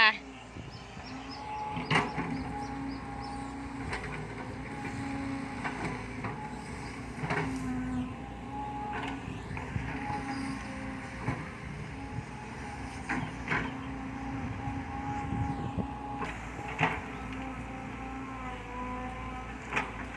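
A heavy digging machine works out a tree stump beside a pond, giving a steady mechanical drone broken by periodic clanks and knocks, heard from a short distance over about twenty seconds.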